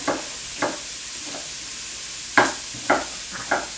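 Onions sauté in a pan for a vegan mushroom chowder, a constant close sizzle broken by a few distinct stirring scrapes spaced about a second apart.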